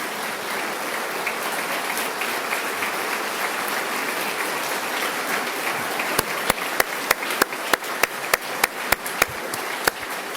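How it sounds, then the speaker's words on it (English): Sustained audience applause at a formal state address, a dense wash of clapping from a large crowd, with a few louder individual claps standing out near the end. "Let's give them a round of applause."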